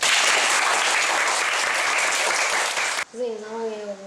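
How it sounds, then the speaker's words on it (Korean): Dense, steady applause from a classroom of schoolchildren clapping for their teacher, loud and continuous for about three seconds, then breaking off as children's voices take over. "선생님이 박수."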